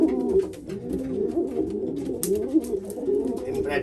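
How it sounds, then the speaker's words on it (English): Racing pigeons in a loft coo repeatedly in soft, overlapping rolling calls, close and steady, with occasional wing flutters and rustling. "That's the winning pigeon."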